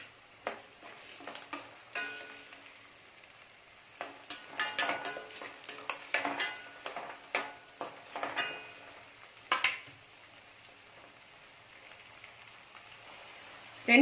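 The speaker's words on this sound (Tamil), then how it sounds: "கொஞ்சமாக கருவேப்பிலையும் சேர்த்து வதக்கிடுவோம்." Chili powder and curry leaves sauté in a pan for a channa dal gravy, with a sequence of close clinks and scrapes from the spoon over a light sizzle, then a quieter stretch near the end.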